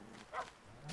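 A cow lows inside a Minecraft farm world: one short moo rises near the middle of a quiet stretch, followed by a second lower call at the very end. No one speaks over it.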